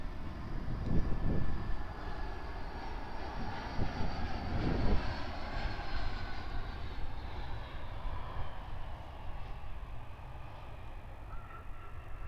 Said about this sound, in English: Time for another Air North arrival from somewhere. An E175.